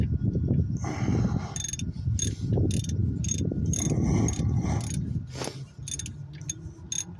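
A long bolt is cranked down with a ratchet on a 2011–2016 Chrysler Town and Country or Dodge Caravan alternator job, giving a steady run of close, rapid clicking with mechanical rattle beneath.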